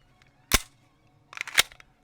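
Sig Sauer P226T TK-Pro pistol fired with Fortuna cartridges on a shooting test: one sharp, close report, then a second crack with clattering after a pause.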